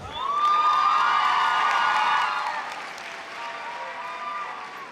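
A crowd at a high school graduation ceremony applauds and cheers, with loud whoops and shouts rising over the clapping, then slowly easing off.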